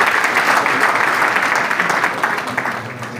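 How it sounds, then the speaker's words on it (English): Applause from an audience at an anti-corruption event, a thick, steady wash of clapping that stays loud throughout and fades slightly toward the end. "Please, a round of applause and thank you."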